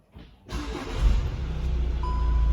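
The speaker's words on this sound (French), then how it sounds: "Je remets le contact." Volkswagen Golf 7 GTD diesel engine turning over and catching after the ignition is switched back on, a close, steady low idle rumble settling in, with a faint high electronic tone appearing near the end.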